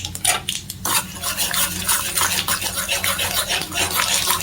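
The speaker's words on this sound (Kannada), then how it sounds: "ನೋಡಿ, ಸಾಸಿವೆ ಚಟ ಚಟ ಅಂತ ಇದೆ." Mustard seeds, chana dal and urad dal stirred with a metal spoon in a pan of hot oil, bringing repeated close scraping and clinking over a light crackling sizzle.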